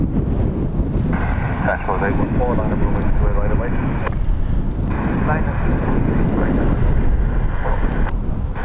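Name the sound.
Qatar Airways Boeing 787 Dreamliner aircraft engines at Dublin Airport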